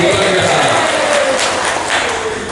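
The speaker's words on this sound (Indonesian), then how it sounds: "Tepuk tangan untuk Romo Hari." Loud applause for Romo Hari at a motivational talk, a dense wash of clapping from the audience with faint voices and tones threaded through it, sustained for the whole stretch.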